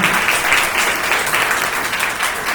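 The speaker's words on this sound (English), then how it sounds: "Let's have one last round of applause for our candidate for position" Audience at a 2022 Katy ISD school board candidates forum applauding a candidate, a loud, dense, even round of clapping from a full room lasting throughout.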